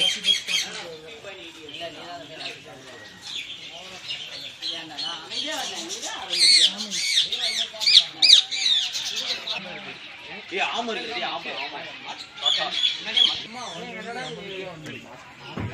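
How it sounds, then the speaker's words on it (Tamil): Many green parrots at Kurumbapatti Zoological Park squawking loudly and continuously, harsh overlapping calls from close by, with people talking throughout. "கிளி பச்சை கிளியாக நிறையா இருக்குது"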